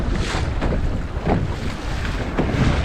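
Strong wind buffeting a small Laguna-Kombi+ sailing dinghy out on open water, steady roaring gusts with periodic swells of noise and no voices.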